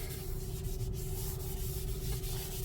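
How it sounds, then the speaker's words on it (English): A wet wipe rubs over a matte carbon fiber center console in a Tesla Model Y/3, giving a steady, close, soft rubbing hiss under a low background hum, with no talk. "let's grab the wet wipe and wipe it down"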